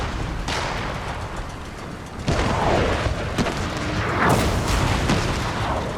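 Naval cannon fire in Empire: Total War, a sea battle between sailing warships: heavy booms and bursts land repeatedly in a dense, continuous barrage, with a loud onset partway through and steady rumbling fire after.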